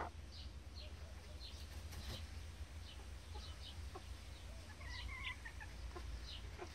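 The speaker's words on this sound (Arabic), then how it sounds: "دجاجة بلدي نسميها في تونس" Native baladi chickens in Tunisia cluck softly in a coop, scattered short calls over a low steady background hum, with occasional faint chirps from young chicks and no talking.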